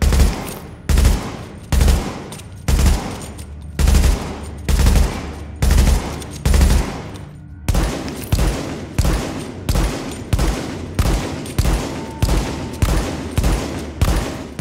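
Gunfire from a Pecan LMG and a Police MK17 marksman rifle without mods in the video game The Division, loud evenly spaced shots in a steady rhythm that continue unbroken through the whole stretch.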